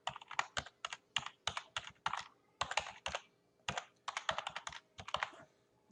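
Rapid bursts of keystrokes on a computer keyboard, close and clear, coming in quick clusters with short pauses between words, no voices.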